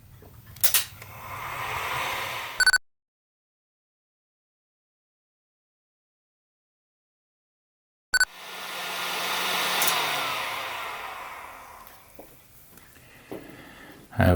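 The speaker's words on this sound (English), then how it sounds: "there is the possibility that the air from the heat gun is going to shake everything" A heat gun blows hot air over a model ship with a steady breathy roar in two stretches separated by a silent gap. Sharp clicks mark the starts and stops, close and fairly loud.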